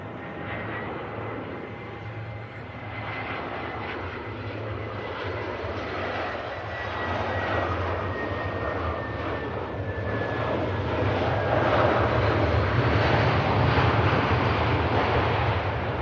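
An ITA Airbus A320 at Manchester Airport roars with a steady, broad jet engine rumble that swells gradually louder over about sixteen seconds, with a faint high whine and wind buffeting; no talking.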